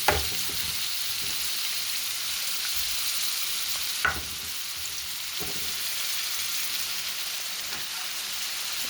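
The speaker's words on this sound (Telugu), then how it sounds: "మనం ఇప్పుడు ఆనియన్స్ పచ్చిమిర్చి వేసేసుకుందాం" Onions and green chillies frying in hot oil in a pan, a steady, faint hiss and crackle throughout, with a couple of sharper clicks where the pan or spatula is stirred.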